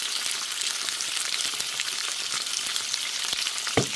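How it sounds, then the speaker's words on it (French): Courgettes grill in a hot pan with a continuous bright crackling sizzle, close and even throughout, ending with a brief knock or scrape, and no talking. "Ici, je fais griller des courgettes"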